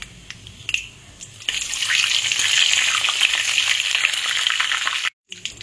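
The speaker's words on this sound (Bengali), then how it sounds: "তেলের মধ্যে 2টো তেজপাতা দিয়ে দিলাম ফোড়নে, আর একটু জিরে ফোড়ন দিয়ে দিলাম।" Bay leaves and cumin seeds sizzling in hot oil for a Bengali-style chicken curry, a close, steady hiss that rises after a second and holds until a sudden cutoff near the end, with faint clatter at the start.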